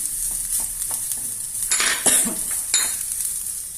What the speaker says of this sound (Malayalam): മുളക് പൊടി ഇട്ടത് ചെറിയ തീയാക്കണം, അല്ലെങ്കിൽ അത് കരിഞ്ഞു പോകും.